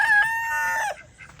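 A farm rooster gives a single close, loud crow lasting about a second, followed by softer chicken clucks.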